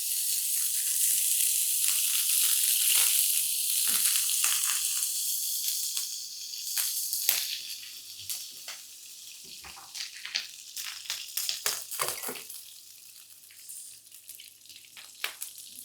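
Two cubes of butter melt in a hot pan for Egyptian-style spaghetti, starting as a dense steady hiss that thins into sparse crackles and pops as it settles, with no talking.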